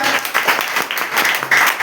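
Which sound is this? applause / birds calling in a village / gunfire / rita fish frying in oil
applause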